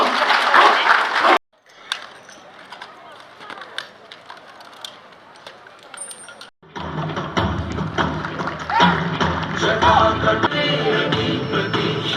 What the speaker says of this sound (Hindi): एक बार 2 बार तालियां